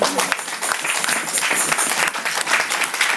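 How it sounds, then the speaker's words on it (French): A church congregation applauding and cheering to acclaim God, dense sustained clapping filling the room throughout with no break. "On va acclamer notre Dieu"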